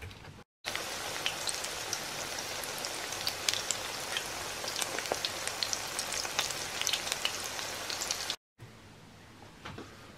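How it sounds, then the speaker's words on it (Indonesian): Corn fritter batter (bakwan jagung) frying in hot oil, a loud, dense crackling sizzle that runs continuously up close, briefly cut by silent gaps at the start and end, with a quieter hiss after the second break. "siap untuk digoreng"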